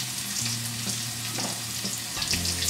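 Masoor dal with salt and turmeric powder frying in a pan, a steady close sizzle with faint stirring scrapes and a low hum underneath throughout.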